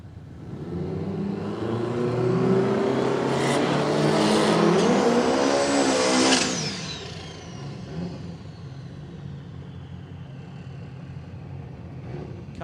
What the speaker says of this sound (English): the Datsun 1200 station wagon, up against that early model Toyota Corolla